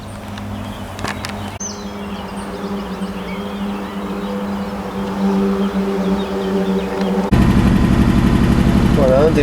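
A 1981 Bentley Mulsanne Turbo V8 cranks and starts smoothly, its low steady rumble building and settling into a continuous throb, with a louder burst near the end.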